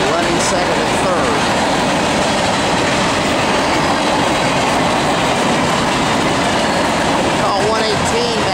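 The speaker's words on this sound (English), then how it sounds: "Looks like the lead UP was an SD70. And then a couple of SD70Ms running second and third." A loud freight train led by a Union Pacific SD70 with two SD70M locomotives behind it rolls past close by, a steady heavy roar of engines and rolling wheels with faint squeals.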